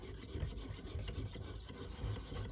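Bubba Blades fillet knife blade drawn across a 600 grit KME sharpening stone, giving a steady, close, continuous rasping scrape with repeated stroke pulses.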